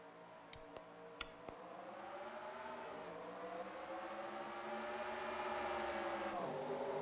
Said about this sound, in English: Pace truck is pulling into the pits